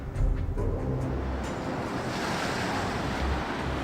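Rough storm seas and strong wind batter a racing yacht during the 2014-15 Volvo Ocean Race while it chases ex-tropical cyclone Pam. The waves and wind make a loud, continuous rush and roar with heavy low rumbling, and no one speaks.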